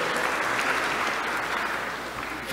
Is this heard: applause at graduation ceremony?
yes